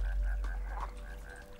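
A frog croaks in the video game Shelter, a steady repeating call pulsing in a regular rhythm over a low ambient drone, fairly faint and without talk.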